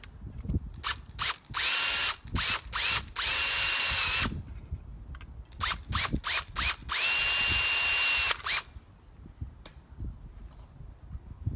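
Power drill enlarging holes for trailer LED tail lights, running in a series of short whirring bursts with a few longer sustained runs, close and fairly loud, with pauses between.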